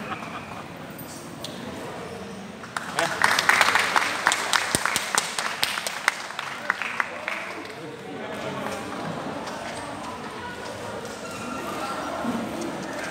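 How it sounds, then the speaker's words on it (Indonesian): Audience clapping during a Nyai Undang dance performance: background murmur and voices, then a burst of sharp, loud, close claps around the middle, thinning into scattered clapping under continued talk and crowd noise. "Tepuk tangan lagi"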